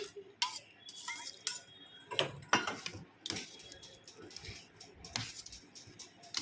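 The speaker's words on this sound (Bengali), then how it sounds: "ঢাকাটা দিয়ে দিলাম" A metal lid set onto a cooking pot in a home kitchen, with clinks and clatter of cookware and short metallic taps at close range, amid other kitchen handling noise and a voice speaking.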